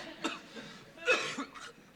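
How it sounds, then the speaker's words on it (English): A person coughs several times in short, separate bursts at close range, with no talking. "Sorry, I don't mean to cough in your face and spread germs."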